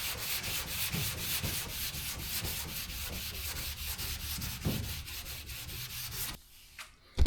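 Steady hand sanding of a primed car body on a 1977 Trans Am, a continuous close rubbing rasp that stops near the end.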